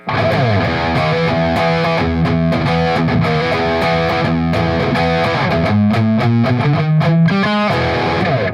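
Heavily distorted electric guitar plays chugging chords and riffs, loud and sustained throughout, with no voices.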